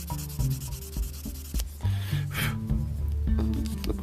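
A Gundam plastic model part is rubbed with a grit sanding stick, giving a close, steady rasping scrape in quick back-and-forth strokes with small pauses, fairly loud and alone.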